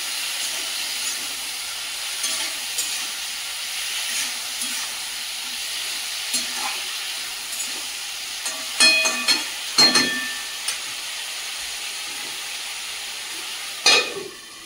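Green chilli, ginger and cumin paste sautéing in a pan make a soft, continuous sizzle, broken by several sharp scraping and clattering strokes of a stirring spatula and no speech.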